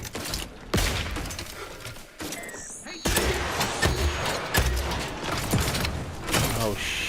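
Turrets firing in The Outer Worlds 2, with bursts of mechanical gunfire and clanking, creaking machinery in repeated loud volleys, close up with continuous game noise.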